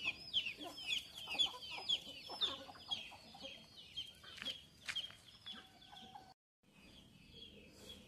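Hens of a rare breed cluck on a farm, giving repeated nearby calls in an uneven rhythm, with a brief silence near the end.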